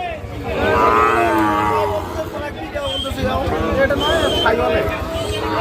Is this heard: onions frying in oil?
no